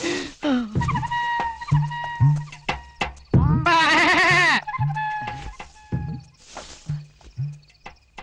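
A goat bleats repeatedly in a comedy film scene, loud wavering cries close by with short pauses between them and one long drawn-out bleat in the middle.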